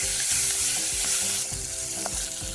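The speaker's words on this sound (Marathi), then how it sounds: "आपण आता भाज्या मिक्स करूया त्याच्यामध्ये तिन्ही कलरच्या लाल हिरवी आणि पिवळी अशा आपण तिन्ही कलरच्या सिमला मिरची घेतल्यात" Red, green and yellow bell peppers and other vegetables sizzle in a hot pan as a spatula stirs them, with repeated scraping strokes over a steady close frying hiss and no voices.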